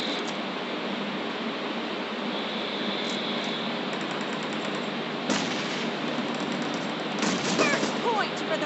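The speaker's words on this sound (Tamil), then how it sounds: "போனதுமே நம்மளை வாயில் சுட்டு விட்டாங்க." Gunfire in an arena match of the video game PUBG: a dense, steady roar of shots with a few sharper bursts standing out near the end.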